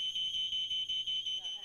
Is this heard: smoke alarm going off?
yes